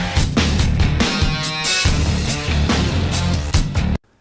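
A piece of library music used to score a film scene plays loud and full with steady rhythmic accents, then cuts off abruptly near the end, with no voices over it.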